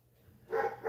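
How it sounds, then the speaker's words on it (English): Dogs barking some distance away at a house: two muffled barks in the second half, faint and slightly distant, with no talk. "What's going on with the dogs up there?"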